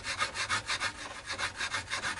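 Leveling file rubbed back and forth over the frets of a Fender Richie Kotzen Telecaster, a quick run of about a dozen rhythmic rasping strokes, close and steady with no talking.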